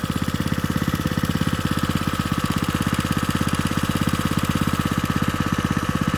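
Close and steady, a small engine idles with a fast, even chugging pulse, running smoky through an oil-soaked muffler as if it had no oil rings.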